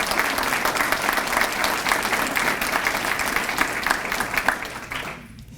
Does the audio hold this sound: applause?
yes